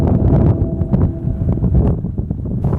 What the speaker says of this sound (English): That will lose half of the fun if I don't show you what the Arctic wind in Canada's north is truly like.